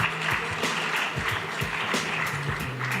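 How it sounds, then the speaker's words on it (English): Audience at a 2019 tech event in Visakhapatnam applauding to welcome a speaker, a steady moderate clapping with a sustained low musical tone beneath it. "So, ladies and gentlemen, with a huge round of applause,"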